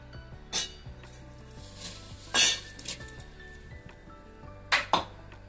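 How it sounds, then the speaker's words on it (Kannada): Rice tipped into a pot of cooking moong dal for sweet pongal, giving a few sharp metallic clinks and scraping knocks of utensils against the pot, spaced irregularly over a quiet background. "ಈಗ ಅಕ್ಕಿ ಹಾಕ್ತೀನಿ."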